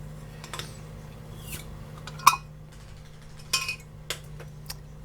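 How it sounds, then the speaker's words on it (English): Chilies being mixed together in a dish with a utensil: scattered clinks and scrapes, a few sharper knocks of metal on the bowl, close and fairly quiet with no talking. "we're going to mix our chilies together"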